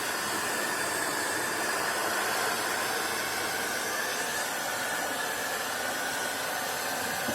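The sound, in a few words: hot air gun warming bituminous backing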